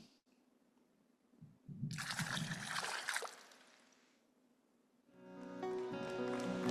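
Water pours out in a rushing, splashing burst that tapers off into trickles, fairly close and moderately loud, before music with sustained tones fades in.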